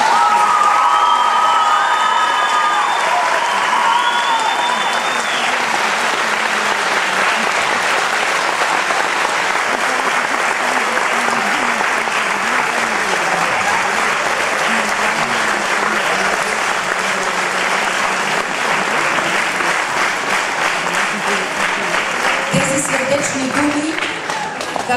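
Loud, sustained applause fills a celebration concert marking fifteen years of a Torlak folk singing group, with a large crowd clapping steadily alongside cheers and shouts that carry through for the full duration.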